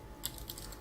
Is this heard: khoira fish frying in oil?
no